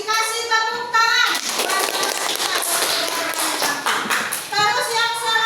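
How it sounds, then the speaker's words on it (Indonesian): Primary schoolchildren applaud together in a classroom, a dense burst of hand claps lasting several seconds with young voices talking over and around it. "Kasih tepuk tangan."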